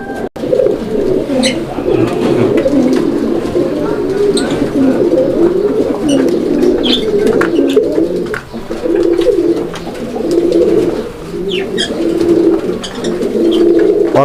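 A male pigeon in full breeding mood coos repeatedly in low, throaty rolling phrases, close and steady throughout, with occasional faint chirps from other birds in the background.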